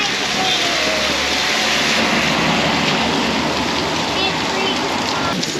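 Steady, loud rain pours on the streets of Lisbon, a dense unbroken hiss close around the listener with no pauses.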